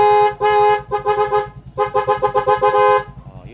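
A motorcycle horn blares in repeated bursts, several long honks and a quick run of short toots, loud and close in a workshop setting.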